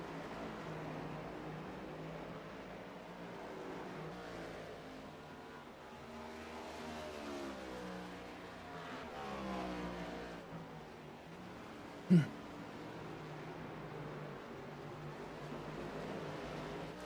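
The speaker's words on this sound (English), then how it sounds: "69 is getting out of the way for Matt." Race cars lapping Watkins Glen International in a sim racing game, with a steady engine drone and shifting pitch throughout, plus one sharp brief knock partway through.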